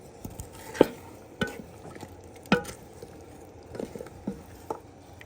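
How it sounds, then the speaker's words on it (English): A bread starter is stirred by hand, soft wet squelching and sticky clicks of a spoon against a bowl coming at an irregular pace, close and quiet, with no talk. "I'm mixing up my next starter for bread."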